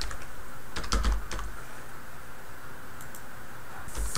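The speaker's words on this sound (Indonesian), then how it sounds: "Dan saja di sini kita ketik nama lalu email" Names and email addresses being typed on a computer keyboard: a few quick clusters of soft key clicks near the start and end, separated by quiet room hiss.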